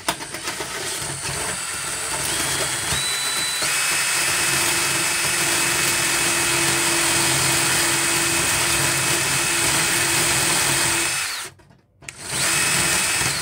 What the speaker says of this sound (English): just grinding the inside of that rivet off right there so that it pops through.